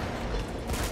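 A powerful gun firing in the video game Uncharted 2, a dense burst of loud overlapping shots filling the moment with no talk.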